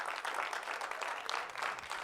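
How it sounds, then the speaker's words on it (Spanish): A congregation claps in applause, a dense, steady patter of many hands that lasts briefly and evenly at moderate loudness. "Un fuerte aplauso, Rey de Reyes."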